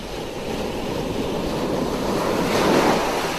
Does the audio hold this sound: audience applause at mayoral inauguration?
no